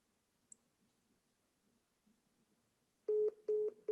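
Telephone keypad tones sound during a call to an automated bot: three loud, steady beeps in quick succession near the end, after a faint click and near silence.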